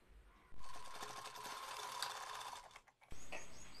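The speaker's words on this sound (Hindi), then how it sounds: "और इस पे भी सिलाई चला लेंगे।" A sewing machine stitching a small dhoti for a Laddu Gopal idol, a steady close whirring hum of fast needle strokes that stops briefly and then starts again.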